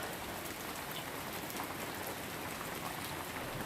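Heavy rain pours steadily on a forest trail in Douglas State Forest, Massachusetts, a dense, continuous hiss of drops striking surfaces close by, with no pauses or voices.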